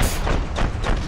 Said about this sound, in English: God, we're being bombed.